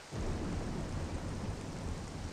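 Heavy rain pours with a deep rolling thunder rumble on the Tallon Overworld planet in Metroid Prime Remastered, loud and continuous throughout after a brief quiet start, with no voices.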